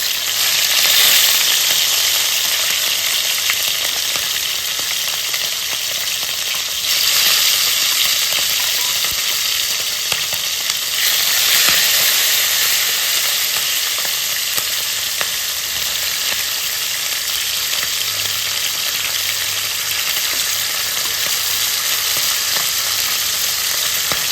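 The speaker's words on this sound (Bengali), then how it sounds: "এবার মাছগুলো একটু ভেজে নেব" Fish frying in a wok with oil, a steady loud sizzle and crackle that runs without a break, with slight swells as pieces are moved and stirred.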